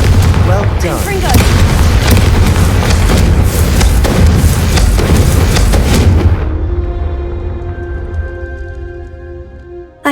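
A Confringo spell blast in Hogwarts Legacy lets out loud booming, crackling explosive bursts that roll on for about six seconds, then die into a softer ringing magical tail.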